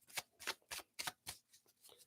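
A tarot card deck is shuffled by hand, giving a quick series of soft riffling bursts in a loose rhythm, close but quiet, with no speech.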